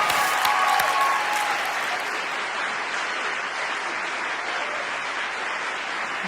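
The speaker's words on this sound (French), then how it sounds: "On vous raccompagne sous les applaudissements du public." Sustained, loud applause from a French television show's studio audience, steady throughout, with no talking.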